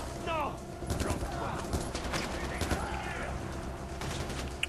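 Gunfire in the video game Far Cry 4, with rapid fusillades of shots over a dense, loud battle din and a brief rising whine near the start.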